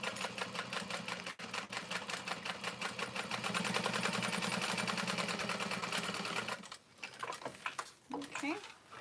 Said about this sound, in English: you're slowly top stitching through.